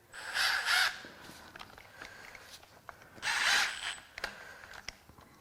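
Ratchet of a socket wrench clicking in two quick bursts while backing bolts out of a salty, 200,000-mile Subaru Outback EZ30R 3.0 H6 engine during teardown, with scattered tool clinks between.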